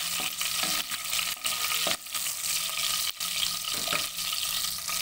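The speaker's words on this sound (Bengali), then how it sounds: "ভাজা হচ্ছে" Cinnamon, green cardamom, black cardamom and bay leaf fry in hot oil, giving a steady, close sizzle broken by scattered crackles and stirring clicks.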